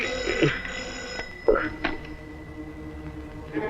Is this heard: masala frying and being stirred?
no